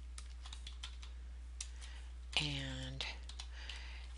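Code is typed on a computer keyboard in a quick, close stream of soft clicks, with a brief spoken word heard partway through.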